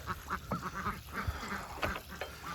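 Ducks quacking in a rapid, overlapping series of short calls, fairly close, continuing steadily throughout.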